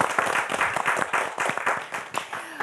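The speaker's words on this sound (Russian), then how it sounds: "Елена, спасибо и аплодисменты, конечно" Studio audience applause for a children's and youth vocal studio on a Gomel evening TV show, a brisk burst of clapping with distinct individual claps, fairly close.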